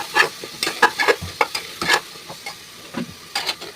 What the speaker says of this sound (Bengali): হলুদ গুঁড়ো, লঙ্কার গুঁড়ো, ধনে পাউডার দিয়ে ফের একটু নেড়ে